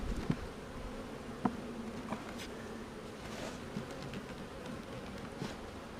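Honeybees buzzing steadily around a full beehive, with a few louder individual bees passing close by over the low, continuous hum of the colony.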